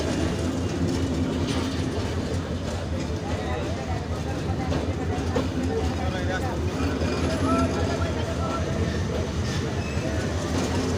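An express passenger train rolls past on rail lines in Bangladesh, a loud, steady rumble with wheel clatter sustained throughout, under a continuous din of wind and motion.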